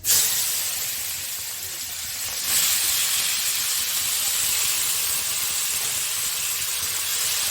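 Mushrooms sizzle steadily in a pan with panch phoron and asafoetida for a Bankura-style dish, a continuous bright hiss that swells a little louder partway through, with no voices.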